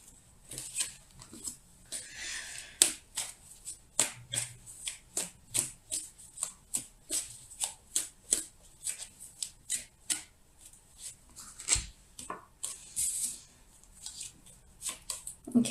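Tarot cards shuffled by hand, a long run of quick papery flicks and riffles in irregular bursts, close and fairly soft with no talking.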